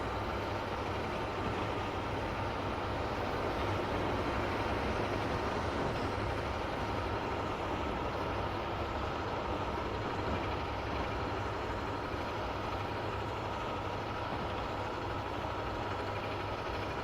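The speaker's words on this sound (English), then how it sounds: "Meanwhile, we get to race another train." Steady broadband rumble of a passenger train at speed on Northeast Corridor track, with a second train running alongside; continuous rolling and rail noise holds at an even loudness throughout, with no voices.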